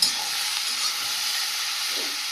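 Chopped bottle gourd and potato cook in a pan, giving a soft, steady sizzling hiss with faint stirring, moderately quiet and uninterrupted.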